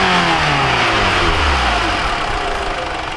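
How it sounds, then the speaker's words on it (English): 2013 Mitsubishi Lancer GT engine revving under load, a loud buzzy drone with rising harmonic tones that sweep upward as it accelerates, continuous and close with road noise beneath and no voices. "the engine just sounds cheap and buzzy"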